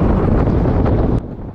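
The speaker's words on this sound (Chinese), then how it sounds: "帽子也弄好了，风很大，" Strong wind buffets the microphone on a large city bridge in Haikou, a loud continuous roar that suddenly drops in strength near the end.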